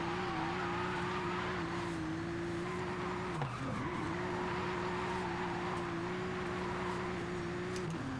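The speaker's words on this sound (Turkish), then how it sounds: "200 kilometre hızla bize drift yaptırıyor araba." Tuned car in Forza Horizon drifting at about 200 km/h, its engine holding a loud, steady roar with one brief dip in pitch partway through, tire squeal underneath, close and continuous.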